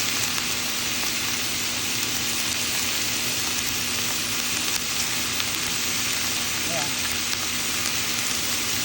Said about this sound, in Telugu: సో ముందు కొంచెం రొయ్యల్ని వేయించుకొని నూనెలో